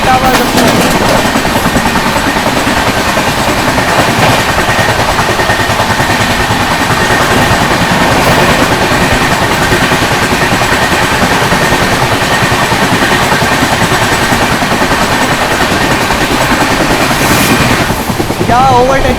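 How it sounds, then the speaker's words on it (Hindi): Superfast Express trains at Etawah Junction, with the Lalgarh Prayagraj Superfast Express overtaking, give a loud, steady rumble and clatter that continues throughout, with nobody speaking. "Overtaking Lalgarh Prayagraj superfast express है इटावा जंक्शन।"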